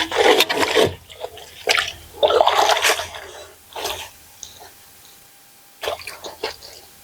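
Clothes being washed by hand with soap and water, with bursts of wet scrubbing and sloshing separated by brief quiet gaps, close and fairly loud.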